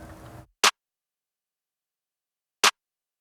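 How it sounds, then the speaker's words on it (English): Two separate hits of a layered clap sample from a pop song production, short sharp bursts spaced about two seconds apart with silence between, heard alone after a brief fade of other sound. "I have layered 2 claps."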